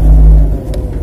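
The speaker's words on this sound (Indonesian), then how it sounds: "Baru kita starter mobil, on," A car engine cranks and fires, a loud low rumble that swells near the start and then settles into a rougher, uneven idle, with no talk over it.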